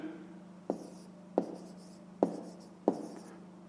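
A pen or chalk writes out a math solution for a fifth-grade exercise, with about five sharp taps and short scratchy strokes spaced roughly every 0.7 seconds, close and fairly quiet with no talking.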